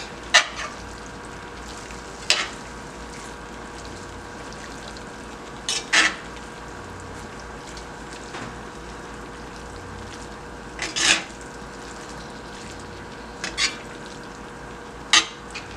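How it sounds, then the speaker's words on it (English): Seasoned corned beef, cabbage and tomatoes being stirred in a pan, a utensil scraping in scattered short strokes a few seconds apart over a steady low hum, with no talking. "a bit of seasoned salt, and Just give it a stir"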